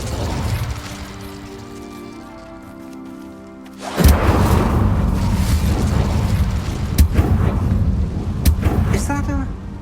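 Incendio fire spell cast in Hogwarts Legacy, a sudden whooshing burst erupting into crackling, rumbling flames that keep roaring steadily after a quieter ambient stretch, with speech nearby.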